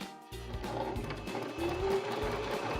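A Baby Lock Zest sewing machine top stitching around a cuff, running in a steady close-up mechanical whir with a rhythmic needle chatter and short starts and stops, no talking.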